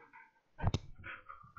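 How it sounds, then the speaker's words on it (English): Roxy the dog gives a short close whimper and a couple of quick sharp barks in the middle of a brief quiet moment, with faint muffled background sounds around them. "Say hi to Roxy Dog."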